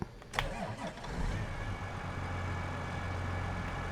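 A John Deere 9R 4213 tractor's diesel engine in Farming Simulator 22 cranks briefly, catches and settles into a steady, close, low rumbling idle.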